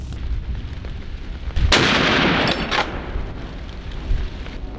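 A gunshot during a wild boar hog-control hunt, heard as a single loud blast that rolls into about a second of broad rumbling decay, with quiet outdoor background before and after.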